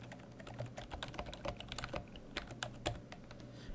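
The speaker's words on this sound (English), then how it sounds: "Let's go ahead and type some text." Typing on a computer keyboard while entering text into AutoCAD 2014: a steady, fairly quiet run of irregular key clicks with a few louder taps, with no talking.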